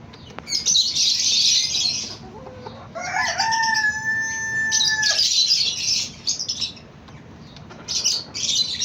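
Cochin bantam chickens cackle and cluck in bursts close by while a rooster lets out one long crow through the middle, over steady background noise.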